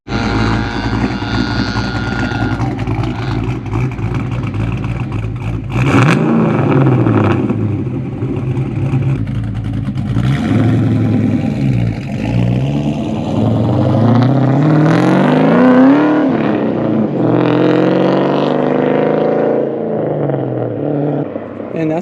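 A Ford Mustang SN95 Cobra's exhaust revs hard from the driver's seat on a canyon road, its loud engine note climbing and falling through repeated accelerations and gear changes with no pauses.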